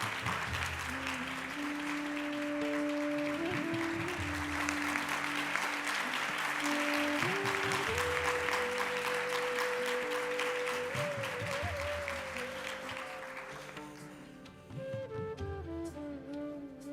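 Audience applause in honour of a guru at a ceremony, a dense, sustained wash of many hands clapping together, tapering off near the end while a sustained musical tone and melody continue beneath it.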